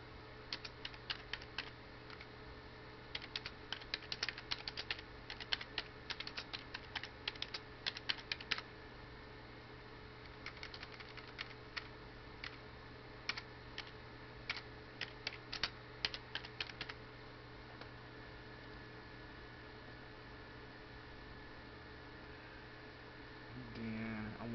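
Keys clatter on a computer keyboard in quick irregular bursts of typing for about fifteen seconds, fairly close, then stop, leaving a steady electrical hum and low background noise.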